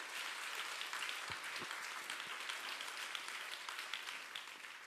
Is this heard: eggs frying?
no